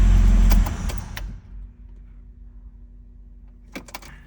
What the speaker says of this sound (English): I'll just shut it off and then restart it